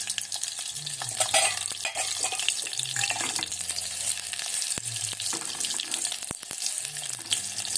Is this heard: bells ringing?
no